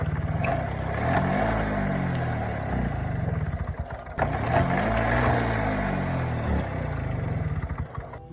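A Honda PA50II moped engine runs poorly, its small-engine drone rising and falling in pitch twice as it stumbles and surges, with a sputtering, uneven tone near the end.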